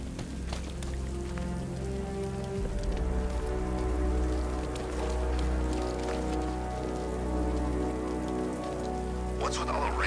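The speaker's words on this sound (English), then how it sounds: "What's with all the rain?" Steady heavy rainfall in Batman: Arkham Knight, a dense continuous patter over a low rumbling game ambience and faint musical hum, with occasional brief sharper noises.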